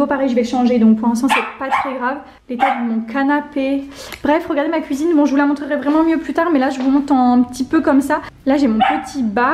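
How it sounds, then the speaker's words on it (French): A dog barks outside through an open window near a house under renovation, a steady stream of yips and barks heard beneath someone talking indoors throughout. "Désolée pour mon chien qui aboie"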